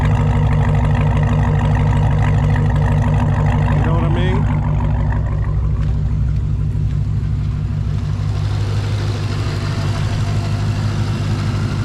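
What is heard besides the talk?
Dodge Hellcat Charger modified exhaust idling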